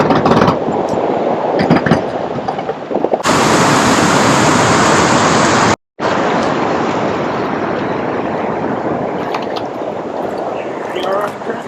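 Whitewater rushes loudly and steadily on the Juniata River, a dense continuous roar close by with a brief break partway through.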